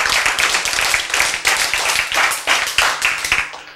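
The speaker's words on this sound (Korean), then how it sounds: "박수 쳐야지 이때는." A small group claps in fast, even unison, loud and close, keeping a steady rhythm for several seconds in a church sermon setting before stopping.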